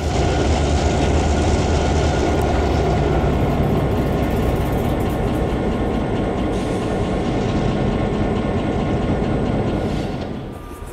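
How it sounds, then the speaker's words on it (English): An HO scale model train of the Washington Central pulls up to a control plant, a steady, loud rumbling clatter of wheels and motor that holds throughout and eases off at the end, with no voices. "we see a Washington Central train as it pulls up to the control plant."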